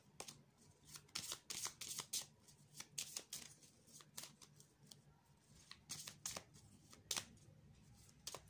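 Tarot de Marseille cards being shuffled by hand, a steady run of quick papery riffles and soft slaps, close and fairly quiet, with no talking.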